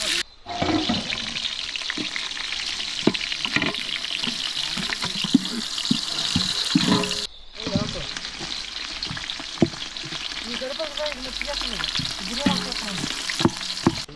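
Onion frying in about a hundred ladles of hot oil for biryani at an outdoor farm kitchen, a steady loud sizzle with scraping stirs, broken by one brief pause before the frying resumes.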